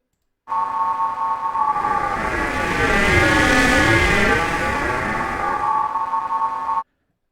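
A synthesized vehicle engine tone with oscillator modulation pushed into the audible range drones steadily for about six seconds, a loud, buzzing, warbling hum whose pitch sweeps down and back up at the middle, with no voices.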